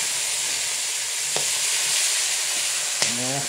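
Shrimp soaked in Sprite frying in garlic butter, a steady broadband sizzle throughout with a couple of brief clinks of a utensil against the pan, no talking.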